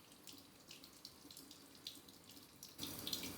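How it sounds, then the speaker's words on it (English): A bathroom sink tap runs in a thin, faint trickle with small splashes, then opens to a brighter, steadier stream near the end. "then I will add a little bit of water just from my sink with my fingers"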